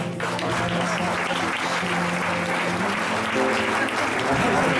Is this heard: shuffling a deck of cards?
no